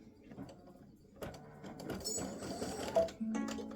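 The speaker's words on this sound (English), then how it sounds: "Let it start stitching." An embroidery sewing machine stitching free-standing lace earrings and hearts, a rapid mechanical whir and chatter of the needle that starts up and keeps running steadily, close and moderately quiet.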